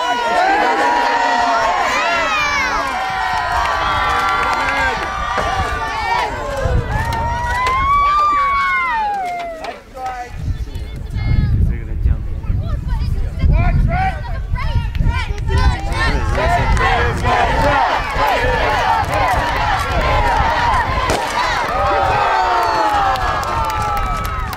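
A large outdoor crowd at a Renaissance faire joust cheers and shouts loudly, with children's high voices in the mix, dipping briefly midway before swelling again with applause and babble.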